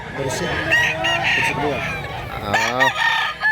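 A rooster, a gamecock up for sale, crows close by amid clucking from other fowl, with a few short calls against steady background noise.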